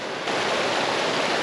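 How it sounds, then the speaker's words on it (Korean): A mountain stream rushes through a deep canyon in the dry Mustang region of the Himalaya, around 4,000 m up. The water gives a steady, full, close hiss with no voices over it. "메마른 무스탕 사막에서 기적처럼 마주하는 계곡이 청량한 물소리를 내면서 흐르고 있습니다."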